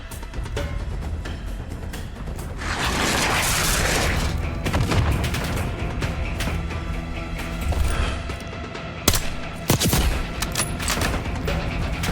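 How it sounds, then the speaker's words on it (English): Heavy rocket explosions and rolling gunfire in Call of Duty: Black Ops 6 combat, a dense sustained barrage with a large blast swelling early on and sharp impacts near the end. "Watch out, rocket!"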